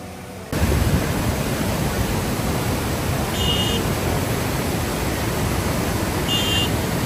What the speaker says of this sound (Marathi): पाहू शकता खूप सुंदर असा धबधबा होता हा.